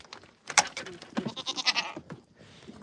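Goats bleating at close range, several overlapping wavering cries in quick bursts, loud at first and then tapering to fainter calls.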